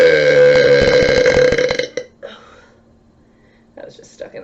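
A woman lets out a long, loud, rumbling burp up close, then quiet breathing and soft talk follow.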